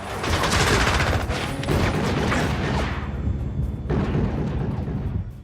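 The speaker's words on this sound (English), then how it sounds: "So with those tanks shooting at you, I'm pretty sure that you have to take damage along the way." Tanks firing in the video game 007 Blood Stone, several loud booming blasts with crackling fire between them, a dense burst at first and then another strong hit near the end.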